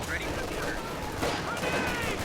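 Gunfire from a Company of Heroes 2 battle between US and German forces rattles in dense bursts of rifle and machine-gun fire, with a voice talking throughout over the steady battle noise.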